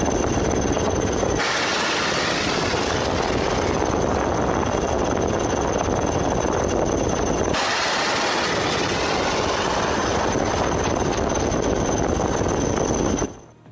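A helicopter launches an Indian anti-ship missile over the sea: a loud, continuous mechanical roar that cuts off abruptly twice and then resumes, with no voices.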